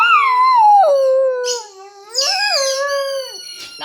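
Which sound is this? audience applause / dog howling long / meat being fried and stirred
dog howling long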